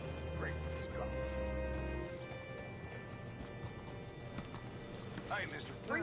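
Hooves of a horse in Red Dead Redemption 2 clop at a relaxed pace near a hitching spot, mid-loud, under a continuous ambient hum, with a short snort near the end.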